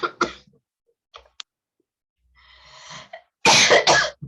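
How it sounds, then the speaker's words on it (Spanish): A few short coughs, with a couple of faint ones in the middle and a final loud, harsh burst of coughing near the end. "Ay, perdónenme, pero tengo tos."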